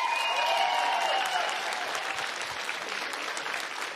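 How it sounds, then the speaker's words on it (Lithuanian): A studio audience at a children's television song contest applauds, with a dense, loud burst of clapping that gradually thins and softens toward the end. "Plojimai."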